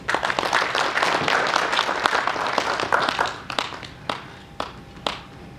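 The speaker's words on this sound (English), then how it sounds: "please let's give him a round of applause" A round of applause from the audience at a national laboratory awards ceremony in Zimbabwe, a full burst of clapping that thins out into a few scattered, separate claps near the end.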